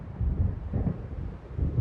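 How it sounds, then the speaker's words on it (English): Low rumbling thunder from an approaching storm in the Alan Wake video game rolls on steadily, deep and continuous, with a windy, noisy texture and no speech. "It seems there's a storm coming."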